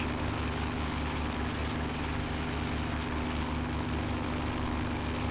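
A small propeller airplane drones steadily in flight, its engine holding an even, continuous hum with a buzzing tonal edge and no change in loudness; nobody speaks.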